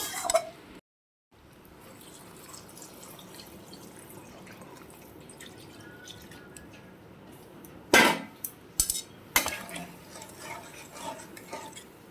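A spatula stirs shrimp, papaya and potato curry in a pan after water has been added, with soft liquid churning and drips throughout and a few sharp scrapes and clinks of the utensil toward the end.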